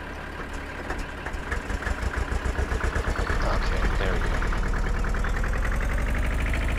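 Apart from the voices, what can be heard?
tractor engine in video game Farming Simulator 2013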